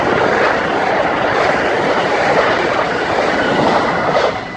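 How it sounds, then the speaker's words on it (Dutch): An SNG passenger train rushes past close by as a loud, broad roar with faint rhythmic rail clatter, holding steady for several seconds before dropping off at the end. "komt er weer een SNG aan"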